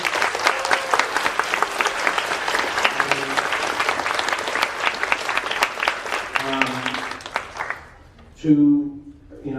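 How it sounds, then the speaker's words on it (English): An audience at a high school humanities symposium applauds the judges with dense, loud clapping that thins out and stops near the end, followed by a brief voice. "But give them a round of applause."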